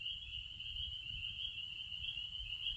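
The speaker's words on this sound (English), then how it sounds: "listening to the frogs" Frogs in a pond at night: a steady, unbroken high trilling chorus continues at an even level throughout, with low rumble beneath and no voices.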